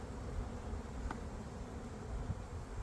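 Steady, droning buzz of many honey bees close by during a hive inspection, a continuous low hum with no pauses and no voices.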